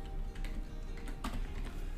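Soft, quick keystrokes on a computer keyboard while entering a database query, an uneven run of light clicks that stays close and quiet for a couple of seconds with no talking.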